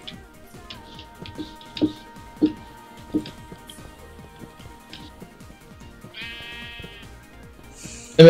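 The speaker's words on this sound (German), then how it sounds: "Wo ist das Schaf? Ach, da ist eins." Sheep in the game Minecraft bleat several times over a steady ticking of in-game sounds, with a sustained tone and a brief chime toward the end.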